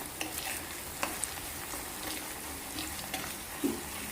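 Cut eggplants sizzle and fry in a hot pan for an Andhra-style stuffed eggplant curry, a steady, close hiss broken by small stirring clicks and scrapes, with no one speaking.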